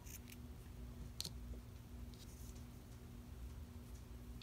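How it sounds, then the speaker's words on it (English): Scissors snip through crochet working yarn, a couple of soft, short clicks heard faintly over a quiet room hum with no talking. "I'm gonna go ahead and cut the working yarn."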